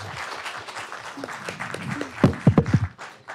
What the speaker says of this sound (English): And a big applause to Rachel.